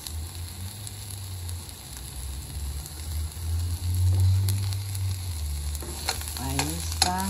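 Garlic sizzles steadily in hot oil in a pan, a close, continuous crackling fry that swells slightly midway, with faint utensil taps near the end.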